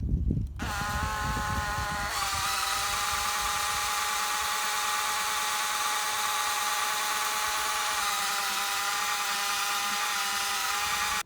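A power drill whirs steadily and loudly for the whole stretch, with a brief rev-up at the start and no talking.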